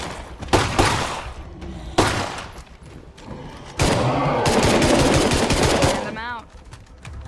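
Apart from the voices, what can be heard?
gunfire from State of Decay 2 video game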